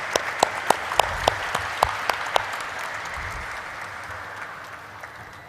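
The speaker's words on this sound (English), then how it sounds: "Let us have a round of applause, ladies and gentlemen." Applause at a stock exchange listing ceremony, a room of attendees clapping steadily with a few sharp, distinct claps standing out at first, then a dense patter that gradually fades.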